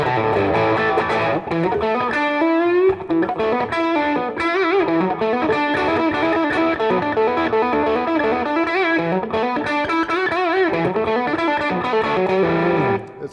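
Fender Telecaster or Stratocaster electric guitar played through an amp's crunch channel, a continuous overdriven riff with chords and bends, loud and close, with no talking.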